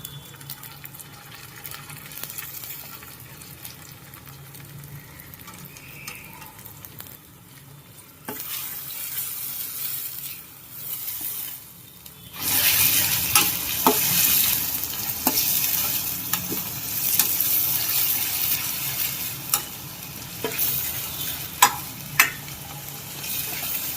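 Frying pav bhaji starts quietly, then tomatoes drop into the pan and the sizzle jumps louder, with scraping stirs and light clinks continuing up close, no talking.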